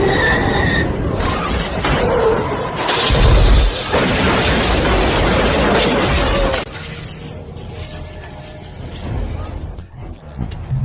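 A loud crash with a heavy bang in the middle, followed by rumbling clatter that fades into a lower, steady background noise.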